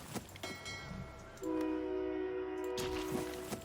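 Train horn in Hearts of Iron IV, a loud sustained steady horn blast starting a moment in and held for about two seconds over quieter rumbling and clicks, with no talk.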